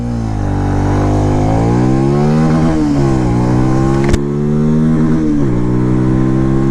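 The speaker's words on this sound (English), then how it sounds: "Let's get this bike going." A Benelli TNT motorcycle engine revs hard in a performance test. It climbs through several gears with pitch rising and dropping at each shift, loud and close, with no voices.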